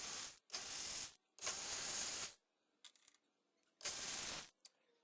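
A bolt is loosened with a ratcheting tool on a 2016 Honda HR-V during radiator replacement, giving three loud close bursts of rapid ratchet clicking with brief quiet gaps and small taps between.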